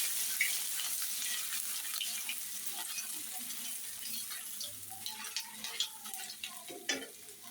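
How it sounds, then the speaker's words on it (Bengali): Ginger frying in a pan hisses steadily while a spoon scrapes and taps, the stirring clicks growing sharper and more frequent toward the end, with faint running water in the background. "আদা দিয়ে অল্প আদা দিয়ে ভেজে নিয়েছি"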